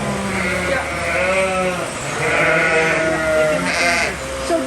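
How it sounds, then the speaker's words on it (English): Sheep ewes and lambs bleating at a farm, many overlapping calls of different pitches continuously filling the air at close to moderate distance, with a steady background hum. "So these are groups of 24 ewes, and then however many babies they have."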